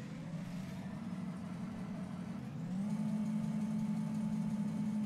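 A train engine in Farming Simulator 19 on the Ravenport map starts up and idles, a steady mid-pitched drone that steps up slightly in pitch and volume partway through, heard alone.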